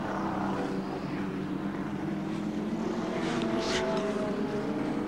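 A BMW 635 touring car races at Oran Park in 1989, its engine droning steadily with a pitch that shifts slightly, while other racing engines whine over a constant rumble heard from trackside.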